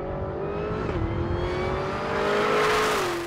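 A 2016 Chevrolet Camaro engine accelerates hard, its rising, steady roar with a whining tone climbing in pitch and swelling louder toward the end, with no talking.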